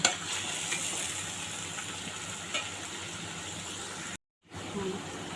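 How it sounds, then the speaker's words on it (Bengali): Tomatoes sautéing with pointed gourd and potato in a pan, a quiet steady sizzle and hiss with light stirring, briefly cutting out before resuming. "টমেটোগুলো একটু তিন মিনিট কষিয়ে নিই"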